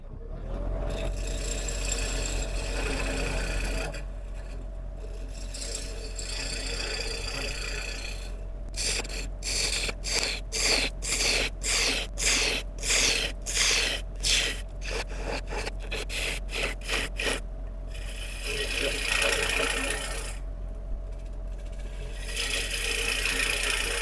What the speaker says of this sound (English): So we'll hollow out up to this edge, leaving a rim, and then make the call.